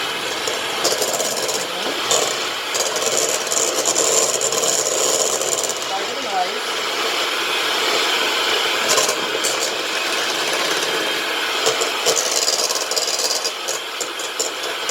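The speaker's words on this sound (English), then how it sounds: "Got my mixer. It's going to get loud" An electric hand mixer creams cream cheese, butter and vanilla in a bowl, giving a loud, steady whirring drone with a rough scraping texture that runs without a break from start to end.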